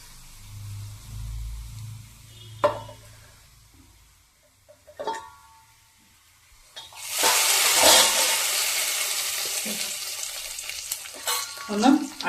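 Fish curry masala in a pan meets a poured liquid, setting off a loud, broad sizzle that holds steady for several seconds, after a few scattered clanks of a spoon against the pan and a low hum.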